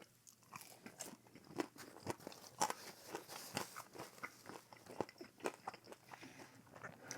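Crunchy bites into a Filipino Ilocos empanada, close and fairly quiet, with a run of sharp crackling crunches and chewing spread through, no talk over it.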